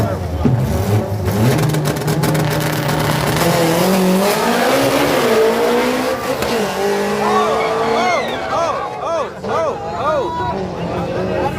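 At an outdoor drag day, a VW Golf Mark 1 races a Datsun: engines roar and rev hard with rising gear pulls and tire squeal, loud and close, while a crowd murmurs and voices talk over it.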